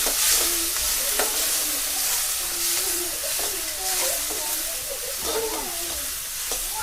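Ingredients sautéing in oil after mustard seeds have popped, a close continuous sizzle with stirring scrapes and scattered crackles, while voices murmur faintly in the background.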